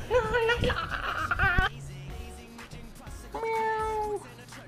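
Indoor house cat meowing: a long, loud, wavering meow near the start, a short pause with background noise, then a second drawn-out meow, close to the microphone.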